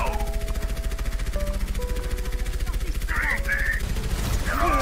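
SMG gunfire in a first-person shooter video game, a rapid, continuous rattle of automatic shots under game sounds and voices.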